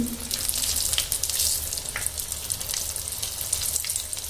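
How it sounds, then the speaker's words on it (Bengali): Chillies sizzle and crackle steadily in hot oil for a Bengali chilli chop, a continuous close frying hiss with occasional sharper spits and faint stirring, no voices. "লঙ্কা এভাবে ভেজে নেবেন"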